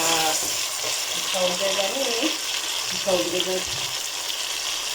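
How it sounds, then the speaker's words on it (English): Diced tomatoes frying in a pan for a black bean dish, a steady close sizzle with a bright bubbling hiss, while a voice speaks briefly over the cooking. "diced tomatoes, and let them cook until they are soft enough"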